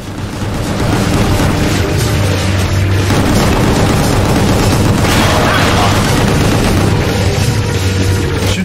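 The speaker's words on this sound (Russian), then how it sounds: "Ой, это все взрывается" Explosions in the shooter video game Gungrave: G.O.R.E., a loud continuous barrage of booms and blasts with rapid gunfire mixed in, dense and unbroken for the whole stretch.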